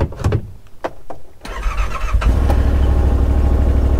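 A 2021 Yamaha RMAX 1000 side-by-side engine cranks with a few clicks and thumps, then catches and settles into a loud, steady idle rumble close by.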